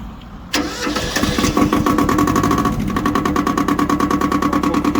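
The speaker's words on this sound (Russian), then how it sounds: "Буквально 5-10 секунд прогрева свечей, и трактор запускается с первого оборота, вообще без каких-либо проблем." An ISEKI TX1300 two-wheel-drive tractor's diesel engine starts after a brief glow-plug warm-up in about minus 10 degree cold, cranking once and catching at once, then settling into a loud, steady clattering idle close by.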